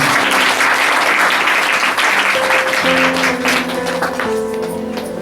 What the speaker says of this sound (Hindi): ताली बजाएंगे परमेश्वर।